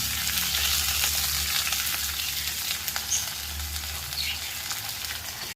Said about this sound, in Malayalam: ഇനി നമുക്ക് പച്ചമുളകും തക്കാളിക്കായും ആഡ് ചെയ്ത് കൊടുക്കാം.